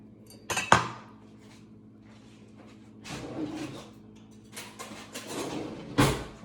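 Chopped onion goes into a cooking pot in a home kitchen: a sharp clatter near the start and another toward the end, with softer knocks and rustles between, close by and without talk.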